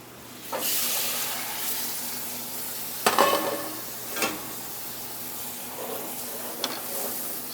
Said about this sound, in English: So it's come to a boil for sure.